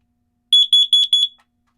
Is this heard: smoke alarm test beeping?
yes